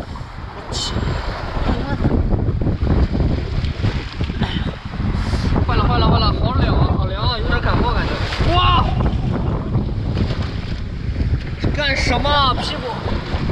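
Waves break against a seaside dock in strong wind, their surf and spray rolling loud and near with heavy wind noise on the microphone, while a voice speaks and exclaims over them.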